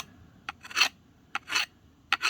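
A hatchet blade rubbed across a flat rock at a bush campsite, three separate rasping, gritty scraping strokes with short pauses between them, close and crisp.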